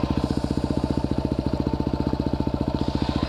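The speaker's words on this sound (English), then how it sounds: "Engine sounds good." Motorcycle engine idling steadily up close on a woods trail bike, a fast even chugging pulse with a metallic rattle, running alone with no talk.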